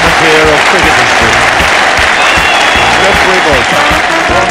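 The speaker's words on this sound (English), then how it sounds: "The England players come out to applaud what really has got to be a moment here of cricket history." Cricket crowd and England players applaud steadily at a club ground, a dense, continuous clapping close and loud throughout, with voices mixed in.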